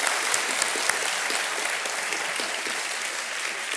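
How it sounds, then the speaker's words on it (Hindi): A KBC studio audience breaks into dense, sustained applause, many hands clapping steadily at full volume throughout the short stretch with no voices on top. "तालियों के साथ एक बार इनका।"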